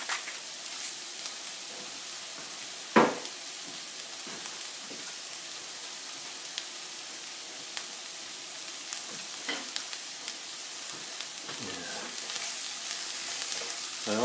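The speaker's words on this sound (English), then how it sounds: "Just going to let that saute for a little bit." Butter and pasta ingredients sautéing in a pan give off a steady, soft sizzle throughout, with a sharp clatter near the start and a few faint utensil taps.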